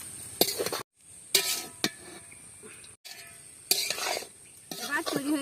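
Fried rice being stirred in a pan, with repeated scraping and clatter of a spatula against metal, broken by short pauses, close and fairly loud over a faint sizzle.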